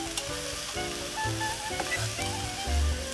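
Squid stir-frying in hot oil in a home kitchen gives a steady loud sizzle and crackle, with scraping stir sounds and low thumps running throughout and no speech.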